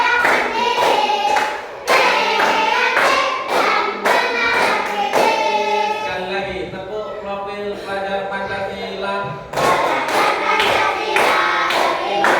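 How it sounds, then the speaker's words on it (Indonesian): Rhythmic bursts of clapping from a class of fifth-grade primary school pupils doing the Pancasila student profile clap chant, loud and close, with the children's voices chanting along between the claps. "Kita bersama-sama tepuk profil pelajar Pancasila."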